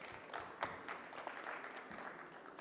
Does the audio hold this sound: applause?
yes